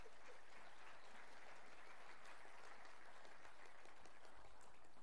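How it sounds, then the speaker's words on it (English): A lodge audience gives a steady round of applause, a continuous even wash of clapping that holds at the same level for the whole stretch with no voices standing out. "let's send them back with a round of applause."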